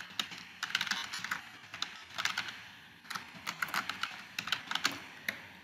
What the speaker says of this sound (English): we will type in the title